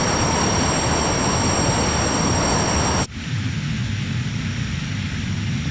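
A Fouga CM.170 Magister jet in Microsoft Flight Simulator 2020 flying near Canary Wharf, its engine a loud, steady roar with a high whine that abruptly shifts to a duller, lower rumble partway through.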